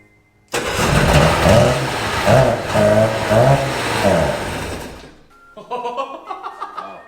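A Sea-Doo GTX jet ski engine cranks and catches with a loud, rough roar for several seconds, then cuts out, followed by a short burst of sputtering pulses.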